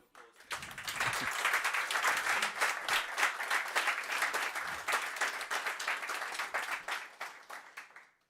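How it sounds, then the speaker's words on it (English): A conference audience at the Ubuntu Summit breaks into sustained applause, dense clapping swelling quickly and holding steady for several seconds before tapering off, fairly distant in the hall. "Can we get a round of applause?"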